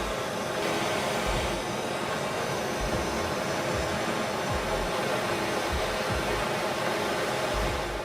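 Steady roaring torch flame blasting against a copper pipe, a loud continuous broadband rush with no pauses, close and alone throughout.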